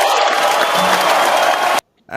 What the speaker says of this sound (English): Let me give him a little crowd noise.